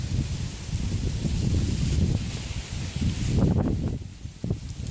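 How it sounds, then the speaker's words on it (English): Wind gusting through leaves on a windy day outdoors, a rustling, breathy rush that swells and fades in waves, fairly close, with no speech. "The leaves are blowing. It's a windy day."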